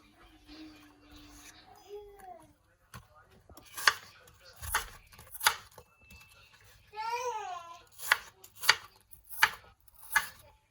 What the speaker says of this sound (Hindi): इसको इस साइज में काट लें।